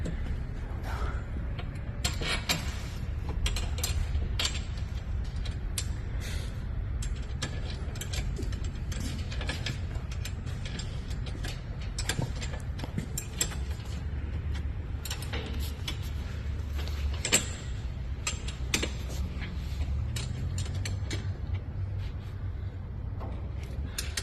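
Bolts being tightened with a ratchet wrench while assembling a Trailmaster Mini XRX/R+ minibike: quiet, continuous clicking ratchet strokes in quick irregular bursts over a low background hum, with no talking.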